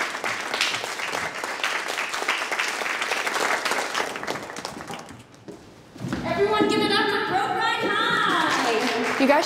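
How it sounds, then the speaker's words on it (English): A crowd applauds after a cheerleading performance, a dense wash of clapping and cheering that dips briefly, then swells back louder with higher excited voices and shouts on top. "And listen to that crowd."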